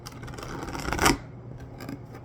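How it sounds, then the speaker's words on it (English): Tarot cards being shuffled, a soft dry riffling and rubbing that swells into one brief louder flutter of cards, then settles into quieter rustling. "Let's do one more shuffle."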